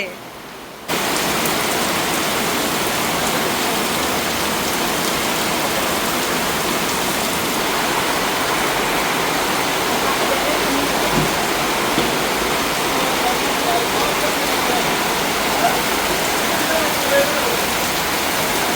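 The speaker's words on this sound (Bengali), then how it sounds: "বৃষ্টি কিন্তু দেখতে ভালোই লাগে বৃষ্টির শব্দ শুনতেও ভালো লাগে" Heavy rain pours down in a dense, loud, unbroken hiss that starts abruptly after a brief quiet moment and stays constant throughout, close and enveloping.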